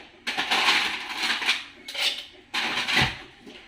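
Ice cubes dropped into a cocktail shaker for a Paraluman cocktail made with Smirnoff vodka: three bright clattering rattles of hard cubes on metal, close and crisp, with short pauses between.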